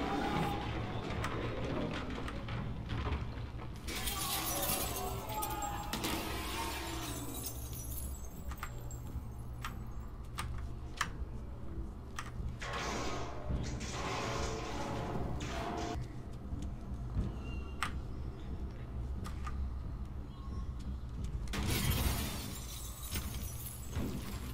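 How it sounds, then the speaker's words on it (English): Objects get smashed in the game Inside: repeated bursts of shattering and breaking debris, several loud crashes spaced irregularly over a constant low background rumble. "just be smashing the crap out of everything"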